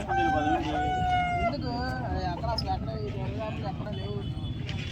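A rooster crows loudly and close by at a Sunday country chicken market in Vijayawada, its long drawn call leading off, followed by more crowing and clucking from other birds, with people talking underneath.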